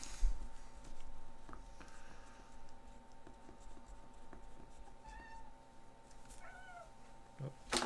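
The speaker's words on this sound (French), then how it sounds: "vous entendez peut-être mon chat qui miaule." Domestic cat meowing indoors: a few faint, short rising meows near the middle and end, heard over quiet scratching of writing and low room noise, with no talking.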